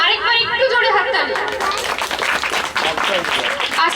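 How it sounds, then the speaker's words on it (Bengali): An audience claps warmly for a child's dance at a Rabindra Jayanti celebration, a steady dense applause filling the room with light chatter and laughter mixed in. "আরেকবার একটু জোরে হাততালি"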